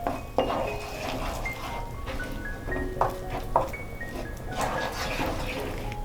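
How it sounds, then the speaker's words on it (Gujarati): A spoon stirs red chili flakes, spices and tomato ketchup in a pot for Mexican rice, with repeated light clinks and scrapes of metal against the pot over a steady background hum. "અને આ બધું આપણે સરસ રીતે મિક્સ કરી દઈશું."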